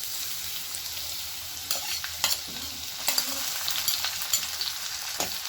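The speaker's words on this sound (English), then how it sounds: "Now we'll add ginger and garlic paste." Ginger and garlic paste sizzles in a hot pan, a soft continuous hiss broken by clicks and scrapes of a spoon stirring, with no voices.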